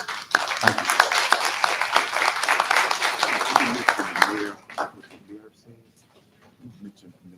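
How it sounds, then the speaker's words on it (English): Audience at a college career training initiative event applauding, a dense burst of clapping for about four seconds that fades out, leaving a few scattered claps and quiet murmuring. "I'm going to ask you to applaud yourself for being here tonight and taking the time to care."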